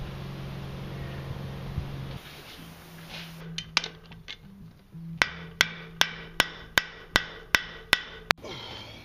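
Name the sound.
blacksmith hammering a forged steel letter opener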